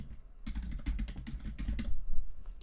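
Typing a folder name on a computer keyboard, a quick close run of crisp key clicks after a brief pause, with no speech.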